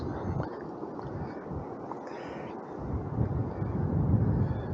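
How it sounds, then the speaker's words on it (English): Steady wind rushes and buffets against the microphone, a low roaring rumble that swells stronger toward the end. "It's certainly windy from up here."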